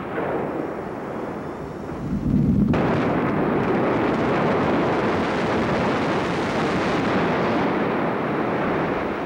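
A large quarry blast sets off a sudden deep boom, then a sustained heavy rumble and roar of rock and debris that stays loud and broad for several seconds, heard from a distance with wind buffeting the microphone.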